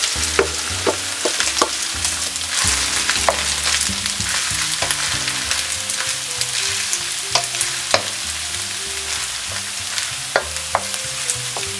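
Egg-coated leftover rice stir-frying in a hot frying pan for fried rice, a steady loud sizzle broken by repeated scraping and tossing clatters of the spatula against the pan, with no talking.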